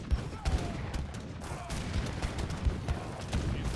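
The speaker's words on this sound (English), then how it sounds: "these 3 mortars again are trying to pick up the walls again" Three mortars bombarding walls in Age of Empires III, a string of muffled booms and impacts at an uneven pace, heard under ongoing talk and battle noise.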